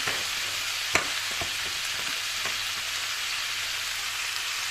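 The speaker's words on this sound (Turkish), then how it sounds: "Bir tatlı kaşığı da biber domates salçası ekliyoruz. Böylece şöyle bir 2-3 saniye kadar karıştıralım." Pepper and tomato paste hiss softly in a pan while being stirred, a steady low sizzle broken by a few spoon knocks near the start.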